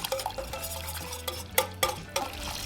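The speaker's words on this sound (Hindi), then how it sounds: "मैंने ये 2 कप डालें और इसको मैं अच्छी तरह इस बीटर के साथ मिक्स करूँगी।" Turkey juices and stock are beaten into a thickening sauce over a high flame, bringing a busy wet stirring and sizzle with rhythmic clacks of the beater against the pan, close and fairly loud with no talk.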